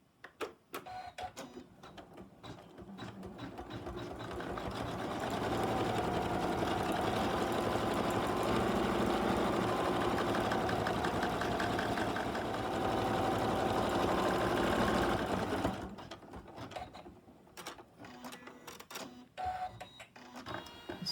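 An embroidery sewing machine stitches out a letter T, its rapid mechanical needle chatter building into a loud, dense whir for about ten seconds, then easing back to lighter ticking and clatter, with no voices.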